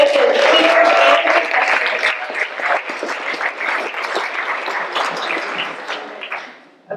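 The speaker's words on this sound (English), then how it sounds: "Let's give them all a round of applause." An audience at a Poetry Out Loud recitation contest applauds a group, with loud, full clapping at first that thins and fades, dropping out near the end.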